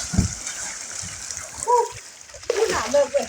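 Teenagers jumping into water at Chom Dao beach to cool off, with a few splashes and sloshing water under chatter and shouting voices nearby.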